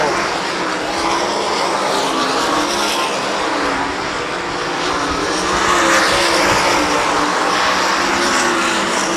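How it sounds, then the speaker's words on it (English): Sprint cars racing on a dirt track at a Sprint Invaders heat and dash event, a loud continuous engine roar that swells as cars pass, with an announcer talking over it. "Your 3-car battle continues on for that 4th spot as Bergquist continues to hold this spot as the white flag waves, 1 to go."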